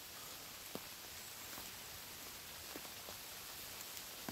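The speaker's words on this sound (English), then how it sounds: "it's just started raining" Light rain beginning to fall on a wild camp with a hammock, a soft steady patter with a few sharper drops tapping nearby, quiet and without voices.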